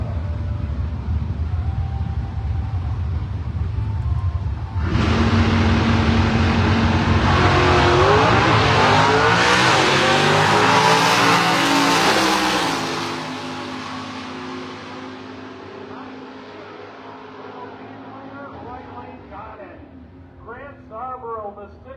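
Drag race cars, including a 98 Firebird stick-shift and a Copo car running VP Racing Fuel, launch loudly down the strip, a roaring burst of engines that fades away as the cars recede, followed by quieter crowd and announcer talk.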